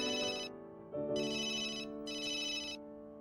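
A phone ringtone sounds for an incoming call, a bright electronic melody repeating in short bursts over a sustained tone, close and moderately quiet.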